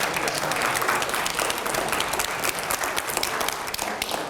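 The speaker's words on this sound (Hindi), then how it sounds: "मैं चाहूंगा एक बार जरा जोरदार तालियां हो।" A studio audience claps through an Indian Hindi-language TV interview show, giving steady, dense applause that lasts the whole stretch without a break.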